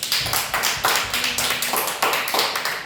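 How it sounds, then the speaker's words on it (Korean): A church congregation applauds together during a sermon, steady rhythmic clapping sustained throughout, fairly loud and close, with no talk over it. "영광의 박수 올려드립시다"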